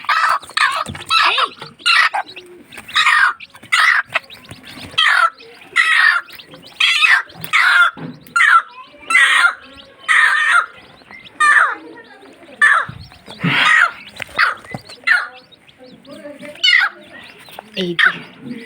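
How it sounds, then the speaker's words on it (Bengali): Newly hatched chicks and hens cheep close by in short, repeated bursts with brief pauses between them, the calls spread evenly across the stretch. "কতগুলা মুরগির বাচ্চা আমার।"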